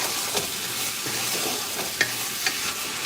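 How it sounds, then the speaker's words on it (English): Meat being stirred in a hot frying pan, with a low steady sizzle and a few light scraping clicks of the utensil, close by and with no voices. "I'm gonna stir it a little bit. I'm gonna play around a little bit longer with this meat"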